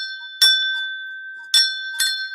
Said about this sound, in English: ring, ring, ring, ringing the bell